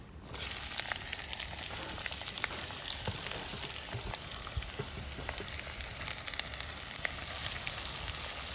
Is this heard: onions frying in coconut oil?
yes